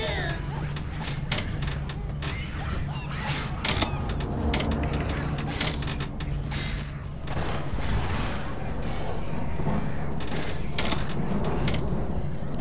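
Rapid machine gun fire rattles in the Left 4 Dead video game, sharp repeated bursts cutting through a dense, noisy background of game action, fairly loud and continuous with someone speaking over it.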